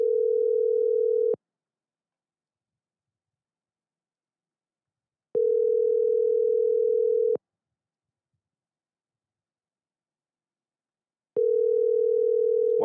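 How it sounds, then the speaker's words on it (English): Steady telephone dial tone heard while placing a call, sounding in three separate bursts of about one to two seconds each, with long silent gaps between them. "Why don't you pick up the phone?"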